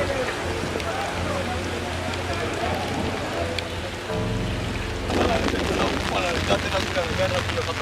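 Heavy rainfall in Tanzania pours down in a dense, continuous hiss with a low rumbling undertone, growing louder and rougher toward the end.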